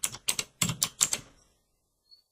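Keyboard shortcut pressed on a computer keyboard while working in VS Code: a handful of quick, close clicky keystrokes in a burst, then silence with one faint tap at the end.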